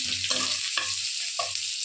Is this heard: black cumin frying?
yes